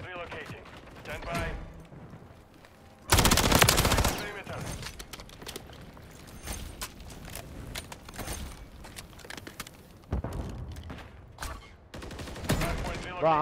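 Gunfire in a Call of Duty ranked match, with loud bursts of automatic weapon fire and scattered shots at close range, and players talking over the game sounds.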